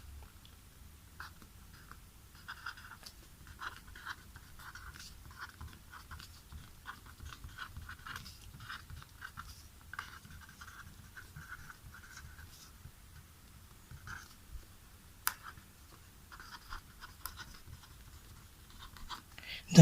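Faint, scratchy strokes of writing on a board during a physics lesson, arriving in intermittent short bursts over a low background rumble, with no clear talk.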